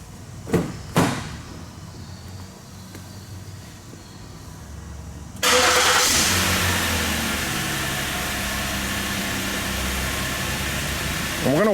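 A 2012 Ford Explorer's engine starts with a sudden crank and catch after a couple of door clunks, then settles into a loud, steady idle heard up close.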